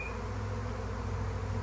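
A honeybee swarm buzzes outdoors on a fine day, a continuous dense drone of many bees, steady and close with no talk.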